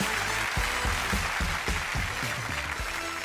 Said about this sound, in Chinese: 掌声也送给我们的郑阳同学